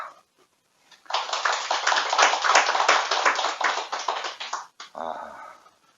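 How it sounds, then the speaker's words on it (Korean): An audience applauds a lecturer at a meditation retreat talk, a dense burst of steady clapping lasting several seconds before it thins out, then a brief murmur follows. "박수를 받으니까 좋기는 좋네."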